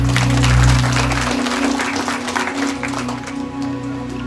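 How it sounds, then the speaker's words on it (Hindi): An audience claps at a religious Bhagavat Katha gathering near Hamirpur and Una in Himachal, a loud sustained burst of many hands that slowly thins and fades over several seconds. "एक बार उनके लिए ताली बजाई जाए।"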